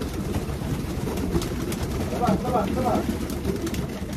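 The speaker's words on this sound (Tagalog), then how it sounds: "Yan yung mga ibon." Racing pigeons at a loft coo softly in the background, their low burbling partly masked by someone talking and general ambient noise.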